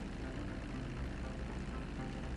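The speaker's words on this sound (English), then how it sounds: "I gotta land my plane." Propeller airplane engine in the video game GTA 5, a steady droning hum held at constant level for the whole stretch with no voices over it.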